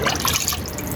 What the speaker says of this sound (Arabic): انا هسقي الزرع كله كله كله كله